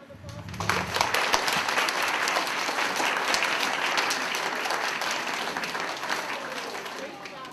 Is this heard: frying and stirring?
no